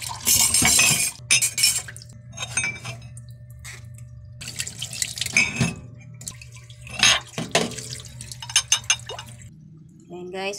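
Coffee cups rinsed under running tap water, with bursts of splashing and clinking dishes over a steady low hum, while people talk in between.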